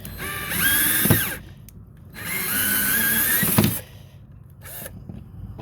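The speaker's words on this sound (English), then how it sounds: "Just screwing it in through the top of the deck." A power drill drives screws through a boat's deck to mount a swim ladder on the swim platform, whining in two long bursts with a short pause between, then a brief third spurt, close and loud.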